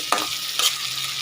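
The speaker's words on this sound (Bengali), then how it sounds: "সব উপকরণ দিয়ে ভালো করে ভেজে নেবো" Ingredients fry in a pan while being stirred, with two scraping stir strokes over a soft, constant sizzle, close and fairly loud, no voices.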